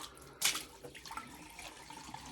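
Water runs from a sink tap in a garden house, a brief splashing burst followed by a steady, fairly quiet trickle and drip, with no talk.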